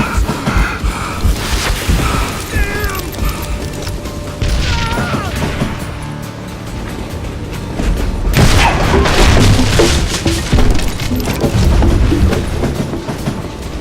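A train in the video game Call of Juarez: Gunslinger rumbles along with heavy clanks and booming thuds, loud and continuous, with metallic squeals and a surge of noise partway through.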